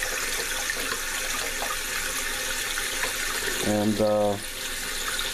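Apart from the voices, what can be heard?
water pouring into coil basketry vessel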